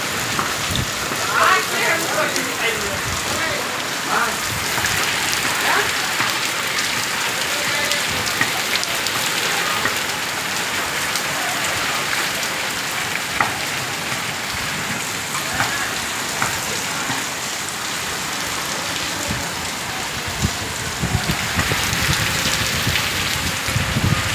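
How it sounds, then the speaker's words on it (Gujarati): Heavy rain pours down steadily, a dense, even hiss of drops drumming on surfaces that stays loud and unbroken throughout. "વરસાદનો ધોધમાર ચાલુ થયા"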